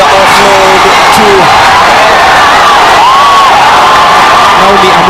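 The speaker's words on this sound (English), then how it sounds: "The crowd is in rapture here on the RFUEA ground" Loud, sustained roar of a rugby crowd cheering at the Safari7s tournament on the RFUEA ground, with dense shouting and whoops filling the whole stretch and a commentator talking over it.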